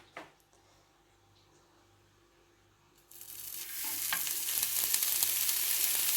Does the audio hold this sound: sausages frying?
yes